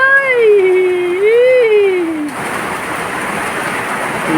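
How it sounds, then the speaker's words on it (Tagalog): A voice holds a long, wavering sung or called note, then cuts off, leaving a steady roar of heavy rain pouring down at night during a power outage. "Brown out, malakas ang ulan."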